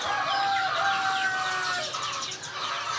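Native chickens cluck and call inside a coop, several birds overlapping in a busy, steady stream of close, fairly loud clucks and squawks with no talking.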